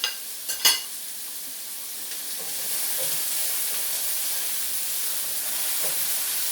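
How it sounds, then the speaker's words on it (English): Simmering food in a pan with peppers added, stirred around: a couple of short clanks at the start, then a steady, fairly loud sizzle and hiss that carries on without talk. "You can see it simmering here. I'm going to stir it around."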